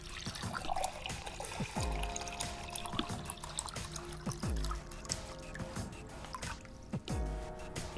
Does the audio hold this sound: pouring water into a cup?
yes